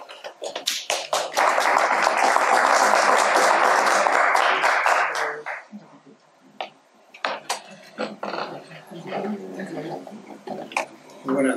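Loud applause greets the director of the Museo Inkari at a museum-day panel event: a few seconds of dense clapping from an audience, then it dies down into scattered claps and a speaking voice.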